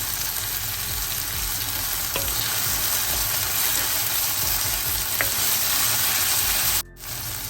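Garlic and curry leaves crackle and sizzle steadily in hot oil for a curry with soya chunks and brinjal, a dense continuous fry with a couple of faint clicks and a brief dip near the end.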